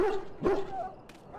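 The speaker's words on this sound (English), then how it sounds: "The dog looks up at you respectfully, backing down from his aggressive stance" A dog in the video game Dragon Age: Origins gives a short bark followed by a thin, rising whimper, close and moderately loud, with a faint voice underneath.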